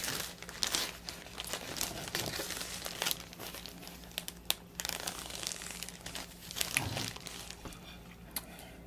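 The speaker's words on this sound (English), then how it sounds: "put it in a plastic bag, which I have a plastic zipper bag right here." A plastic zipper bag crinkles as silica gel is placed inside, giving close, uneven rustling and crackling bursts with brief pauses and a few sharper handling clicks.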